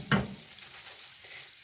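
Mullet fries in a Tefal pan, a brief clatter followed by a soft continuous sizzle close by, with no talking.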